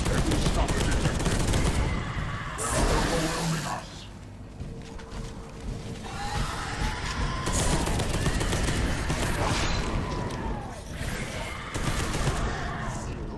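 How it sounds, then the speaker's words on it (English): Bolter guns firing in the video game Space Hulk: Deathwing, rapid bursts of loud automatic gunfire that pause briefly and resume, with a voice talking over the shooting. "guns we're firing are bolters."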